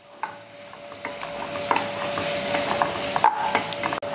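Ginger garlic paste fries in a pan while broad bean stir-fry is being cooked, with a continuous sizzle broken by scraping stirs of a spatula across the pan.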